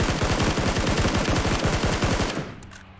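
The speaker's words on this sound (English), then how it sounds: "Now taking a couple of shots at Krisu as well" Rapid automatic gunfire in PUBG during a competitive pro scrim match, a dense steady burst of shots for over two seconds that cuts off and leaves a faint ringing tail.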